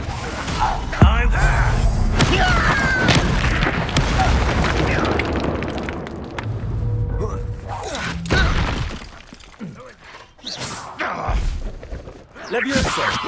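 Spell explosions in a Hogwarts Legacy boss fight against a Graphorn: loud booms, shattering bursts and crashing impacts, dense and close for several seconds, thinning into scattered hits, with voices heard beneath the chaos.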